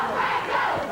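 A Memphis wrestling arena crowd roars in a brief, loud, sustained surge of cheering for a tag team during a mid-1980s match.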